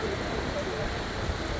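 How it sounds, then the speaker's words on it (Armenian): Wind and rain in a stormy outdoor setting, a steady broadband rush with no clear gaps. It is fairly loud and continuous throughout. "քամի, փոթորիկ ու անձրև։"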